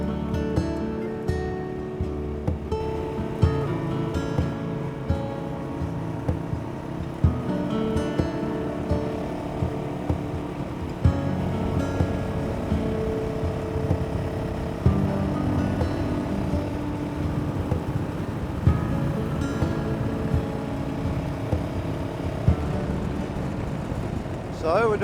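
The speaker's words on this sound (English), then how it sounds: "50k an hour, 4th gear, what a happy rev." A Honda CRF450L dual-sport motorcycle engine hums steadily while the bike rides along at speed, with periodic bumps and knocks. A rider talks over the drone throughout.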